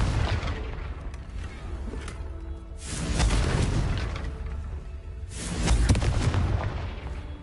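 Confringo fire spell cast repeatedly in Hogwarts Legacy, two loud booming explosive bursts with a whooshing swell, set against constant rumbling game ambience, no talking.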